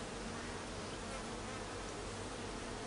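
A dense, steady buzz of honeybees fills an open hive during an apiary inspection in late summer, loud and close, continuous throughout with no talk.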